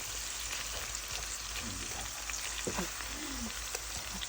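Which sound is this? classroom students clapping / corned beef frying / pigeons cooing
corned beef frying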